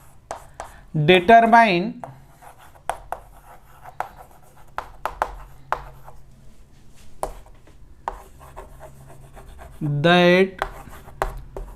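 A marker or chalk scratches out a question on a board during a Hindi vector maths lesson, in short bursts of scraping, tapping strokes between stretches of a man's speech.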